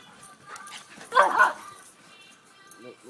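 A dog playing gives a short burst of yips and barks around the middle, mixed with whimpering, fairly close, amid soft background voices.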